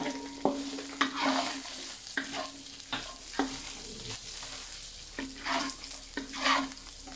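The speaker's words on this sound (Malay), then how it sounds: "saute dulu sekejap sampai bawang tu translucent." Onions sautéing with bay leaves in a pan, a steady close sizzle broken by repeated scraping stirs of a utensil against the pan, with no talking.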